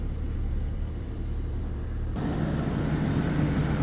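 A car that had a dead battery starts after being jump-started from another car, its engine settling into a steady close idle rumble that grows louder and fuller halfway through, with no talk.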